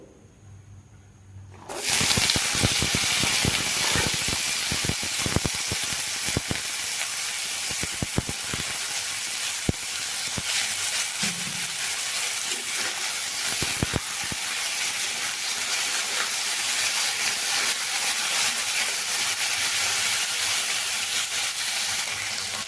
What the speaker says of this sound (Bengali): তেল আমার গরম হয়ে গেছে এবার আমি এখানে রেডি করে রাখা আলুগুলোকে ভেজে নেবো